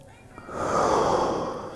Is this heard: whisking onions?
no